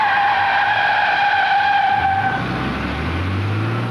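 A car brakes abruptly and its tires skid with a loud, sustained screech and squeal that shifts into a low rumble as it slows, with no voices.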